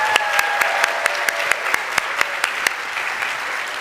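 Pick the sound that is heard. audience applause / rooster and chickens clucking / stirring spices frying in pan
audience applause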